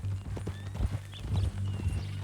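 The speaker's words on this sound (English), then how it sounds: "Ain't you fine? That new horse?" A horse in Red Dead Redemption 2 clip-clops with a quick run of hoof strikes close by, over a low, steady hum, with no voices during the clip.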